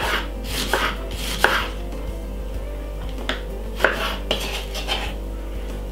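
Knife chopping red onion on a board for a rocket pineapple salad, a run of crisp, close taps in irregular bursts with a steady low hum underneath.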